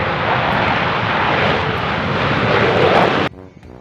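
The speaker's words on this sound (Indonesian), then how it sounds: "Ternyata ini jet tempur." A toy fighter jet gives off a loud, steady electronic jet-engine roar that holds for about three seconds and then cuts off abruptly, leaving brief quiet handling noise.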